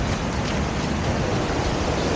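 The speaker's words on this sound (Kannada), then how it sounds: "ಹಾಗೆ ಫಾಲ್ಸ್ ಶಬ್ದ ಕೂಡ ಕೇಳಿಸ್ತಾ ಇದೆ." Distant roar of Arbi (Parapaadi) waterfall near Nitte, Karkala in Udupi, heard as a steady, even wash of rushing water with no voices.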